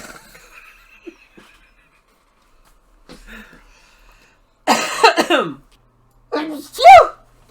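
A single sharp sneeze bursts out in a quiet room during a casual talk show, preceded by faint stirring and followed by a second short breathy outburst.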